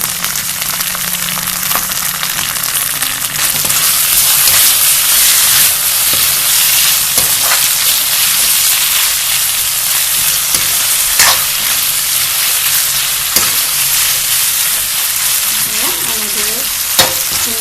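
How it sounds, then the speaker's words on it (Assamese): Pointed gourd (potol) slices frying in a pan as sauce is added, giving a steady loud sizzle with stirring scrapes throughout and no talking. "এইখিনি ফ্ৰাই হ'লে আৰু এতিয়া মই ইয়াত চচ দিম"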